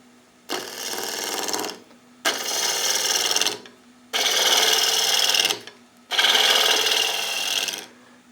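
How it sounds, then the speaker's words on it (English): A 19mm bowl gouge with a 55-degree bevel cuts a spinning piece of wood on a woodturning lathe, four loud rasping passes of roughly one and a half seconds each separated by short gaps with a low motor hum underneath. "I've got a 19mm bowl gouge with a 55-degree bevel. And I'm just going to remove that corner"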